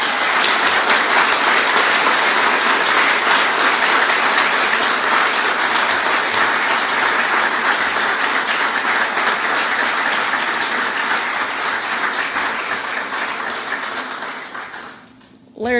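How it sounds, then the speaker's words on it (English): Loud, sustained applause from a standing audience at an Arkansas state press announcement of a new state treasurer, dense clapping that holds steady for many seconds before fading away at the end. "we've never gotten that kind of applause for literally anything that I've done"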